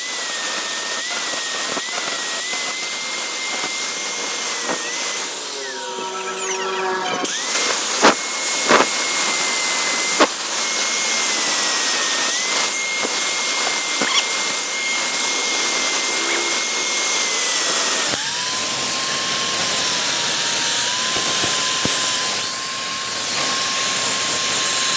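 A grinder works a clutch part from a CB motorcycle, its steady high whine holding for long stretches with pitch dips and a rougher scraping burst partway through.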